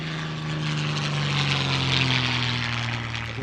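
Propeller airplane flying overhead at the La Ferté-Alais air show in France: a close, loud, steady droning engine roar with buzzing propeller tones, rising slightly then easing over a few seconds, no talk.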